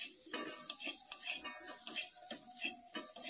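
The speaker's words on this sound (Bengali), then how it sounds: "এগুলোকে এবার হালকা করে আমি নাড়াচাড়া করতে থাকছি" Spices and turmeric frying in a pan, stirred gently, produce a quiet, steady sizzle with rhythmic scrapes and light taps of a utensil at close range.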